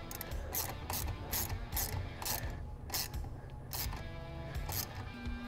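A hand ratchet clicks in quick repeated bursts while the negative battery cable is reinstalled on a C8 Corvette, close and crisp with short pauses between strokes.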